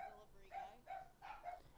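Dogs bark in a few short yips and woofs, repeated roughly every third of a second, fairly faint and distant behind a quiet room tone during a podcast recording.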